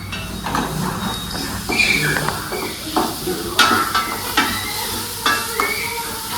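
Onions frying in a pan for Kolhapuri misal, with a steady close sizzle under repeated scraping and clinking stirs of a spoon against the pot, no talking.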